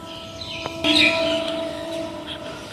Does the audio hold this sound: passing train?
yes